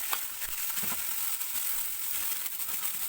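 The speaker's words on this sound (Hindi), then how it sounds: "ये ब्राउन हो चुका अदरक लहसुन, तो हम प्याज़ों का पेस्ट डाल रहे हैं" Onion paste hits hot oil with browned ginger and garlic for a Pakistani-style fish curry, giving a steady, fairly quiet sizzle with faint crackles throughout and no talking.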